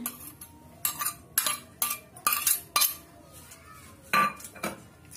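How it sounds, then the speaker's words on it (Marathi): Metal spoon scraping and clinking against a pan while adding ginger, garlic and coconut paste for stuffed brinjal masala, a series of sharp separate knocks and scrapes with short pauses between, no talk. "अद्रक लसूणची पेस्ट टाकणार आहोत, अद्रक लसूण आणि खोबऱ्याची"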